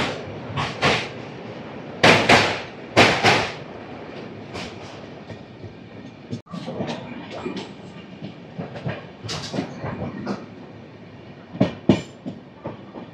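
The 22701 Visakhapatnam–Guntur Uday Express, a double-decker train, rolls into Tuni railway station with a loud, close rumble. Clattering wheel clicks and heavy bursts come early on, then settle into steady rolling noise with scattered sharp knocks.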